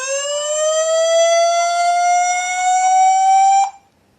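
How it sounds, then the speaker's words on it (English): Strong motion-detection alarm from a Yeskamo security camera: a loud, steady electronic siren tone that rises slightly in pitch for several seconds, then cuts off abruptly into silence. "That is the strong alarm for motion detection"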